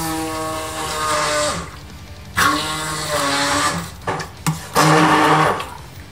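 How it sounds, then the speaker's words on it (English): An electric mixer purées cooked pumpkin spiced with cardamom for the pumpkin layer of a gluten-free vegetarian lasagne. Its motor whines steadily and loud, then bogs down and revs back up in several short bursts, with no voices. "We take our trusty mixer and make a puree."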